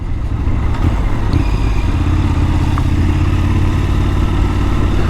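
A 2022 Triumph Scrambler 1200 XE motorcycle engine runs steadily and close by, a loud continuous rumbling drone holding an even pace throughout with no voices.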